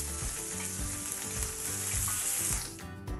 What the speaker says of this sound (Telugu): పచ్చిమిరపకాయలు కొంచెం వడిన తర్వాత ఉల్లిపాయ ముక్కలు వేయాలి జాగ్రత్త పేల్తాయి